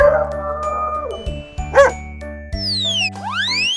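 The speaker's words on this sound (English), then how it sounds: "Good dog." A single cartoonish dog bark pops up amid playful music, with jingling and sliding sound effects around it.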